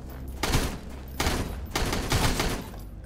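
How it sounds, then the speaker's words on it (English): Gunfire in the survival video game Sunkenland, with several dense bursts of rapid shots at about half a second, just past one second and from two to two and a half seconds, fairly loud with no talk. "Oh, they are shooting."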